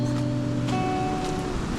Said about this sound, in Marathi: बघा आमच्या नदीला बघा पाणी किती आलं आहे